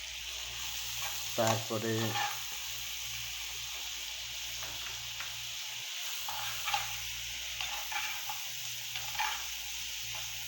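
Ginger and garlic frying in hot oil, a steady sizzle with scraping stirring strokes and a few louder stirs. A voice speaks briefly over the cooking.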